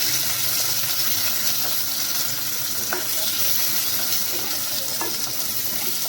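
Ingredients for paneer butter masala frying in a pan, a loud continuous sizzle with bubbling crackle and a few light clicks from stirring, close up and without speech.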